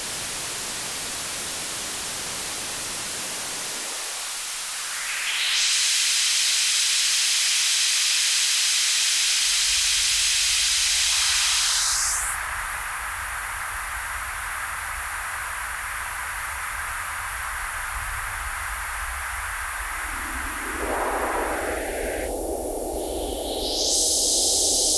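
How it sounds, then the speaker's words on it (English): A continuous loud hiss of white noise shifts in tone in stages, its brightness and bass changing abruptly as different bands are boosted and cut. "If I send the white noise through the graphic equalizer"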